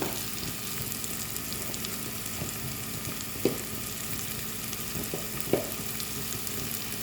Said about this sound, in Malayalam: ഇതിൽ ഒന്ന് വഴറ്റുന്നു നന്നായിട്ടൊന്ന് വഴറ്റുന്നു